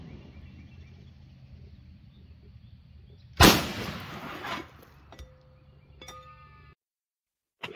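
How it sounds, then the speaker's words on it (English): A homemade .54 caliber matchlock muzzleloader fires a shotgun round at a gallon jug outdoors, one loud sharp blast with a short rumbling tail, followed by faint clinks and a thin ringing tone. "I'm going to shoot with the shotgun round and see how much damage that does"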